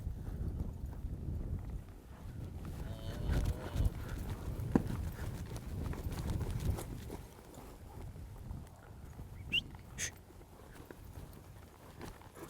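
Cutting horse hooves step slowly backward on soft arena ground, giving muffled, irregular thuds close by under a low, steady rumble of wind or outdoor noise.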